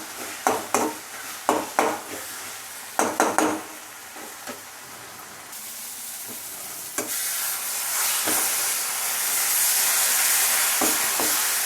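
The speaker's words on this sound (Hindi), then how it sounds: "इसके बाद सारे मसाले को डाल के इसको चला लेंगे सारे मसाले को।" Spices are stirred in a hot pan for a beetroot dish: a run of sharp spoon-on-metal scrapes and taps up front, then a rising sizzle and steady frying hiss, with a few more scrapes near the end.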